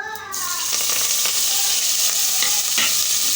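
Ginger, green chilies and curry leaves dropped into hot oil, a loud, bright sizzle bursting up at once and crackling steadily close by, with occasional sharper pops.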